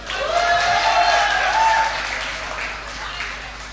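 Crowd applause and cheering from an esports grand finals LAN audience, a sustained wash of clapping that swells for about two seconds and then tapers off while continuing steadily.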